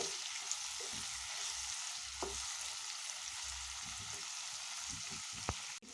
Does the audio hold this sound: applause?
no